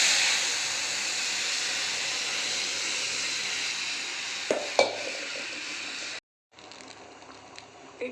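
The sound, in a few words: dal poured into hot pan, sizzling and stirred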